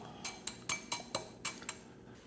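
Spoon clinking against a bowl while mixing Count Chocula, Franken Berry and Boo Berry cereal, about eight light, fairly quiet clicks in an uneven rhythm, with no one talking.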